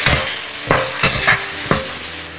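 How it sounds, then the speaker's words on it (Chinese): Winter melon stir-fried in a wok, with a loud, close spatula scraping and tossing in about four sharp strokes over a steady oil sizzle. "打开锅盖，再次翻炒30秒，"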